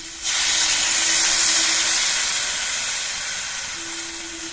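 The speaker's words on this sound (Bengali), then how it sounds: "এবার এর মধ্যে আমি ঝোল দিচ্ছি" Broth is poured into a hot pan of Bengali vegetable curry with potatoes and catla fish. It sets off a sudden loud steam hiss and sizzle that holds steady, then slowly fades.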